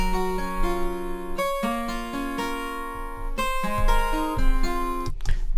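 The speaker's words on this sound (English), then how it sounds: "The next track is the picked guitar." A software-instrument picked acoustic guitar track processed through a bit crusher in Logic Pro, quick plucked notes ringing in a steady melodic pattern with a slightly gritty, lo-fi edge, played alone.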